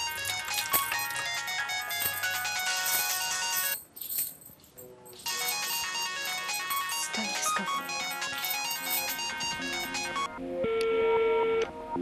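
A telephone ringtone plays in a Pakistani TV drama scene, a loud electronic melody that repeats in bursts with a brief break, then shifts to a brighter tone near the end.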